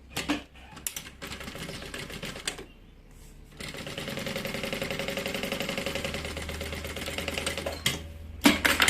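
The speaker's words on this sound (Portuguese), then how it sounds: "Centraliza bem e faz uma costura" A sewing machine stitches a seam on a medium-sized bag, running in steady bursts of rapid mechanical clatter with short pauses between runs.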